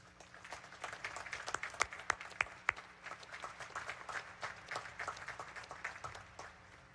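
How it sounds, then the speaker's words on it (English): Graduates are recognized at the US Naval Academy graduation with applause from the crowd, a scattered, fairly distant patter of clapping punctuated by a few sharp, close individual claps. "Please join me in recognizing and applauding these distinguished graduates"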